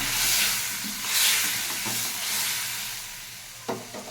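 A spice paste of tomato, salt, ground spices, a few sugar grains and a little water fries in a pan, with a loud, steady hissing sizzle and a couple of stirring knocks near the end, close up and with no talk.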